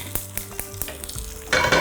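Beef pieces browning in a pan, a close sizzle punctuated by several sharp taps and scrapes, with a brighter burst of frying toward the end.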